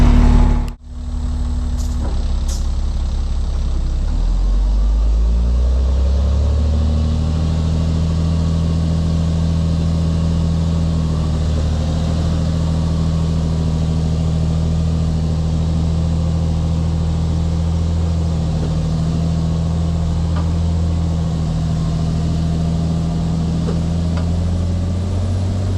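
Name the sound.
6-wheel-drive truck engine pulling the truck out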